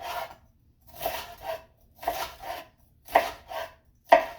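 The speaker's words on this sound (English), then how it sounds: "you're just going to do thin slices of your pepper so you get these nice thin julienne" A knife slicing bell pepper into thin julienne strips, about eight rhythmic slicing strokes in pairs, each a crisp cut with a board tap, close and clear with no talking.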